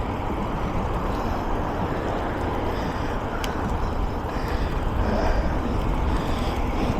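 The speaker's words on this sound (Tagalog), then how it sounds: "Pero may hangin pa rin." Steady wind roars against the microphone during an early-morning bike ride, a dense broadband rush that stays loud and unbroken throughout, with no voices.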